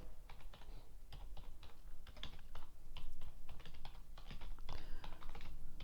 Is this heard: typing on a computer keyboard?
yes